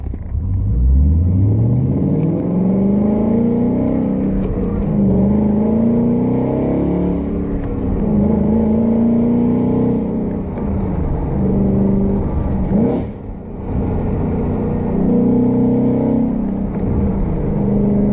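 A 2015 Ford Mustang GT with an MGW shifter pulls hard through the gears, its loud, close engine note climbing in pitch before each shift and dropping back, repeated several times with no talking.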